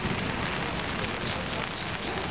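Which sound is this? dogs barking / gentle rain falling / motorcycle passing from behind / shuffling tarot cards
gentle rain falling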